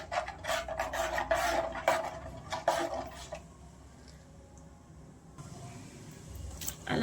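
Mustard seeds, cumin and turmeric hit hot oil for a stuffed brinjal curry, crackling and rasping loudly for a few seconds before easing to a faint, quieter sizzle.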